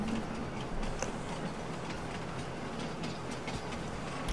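A train rolling along the tracks in the farming video game Farming Simulator 19, a steady low rumble with faint rhythmic clicks, moderately loud and continuous with no talking.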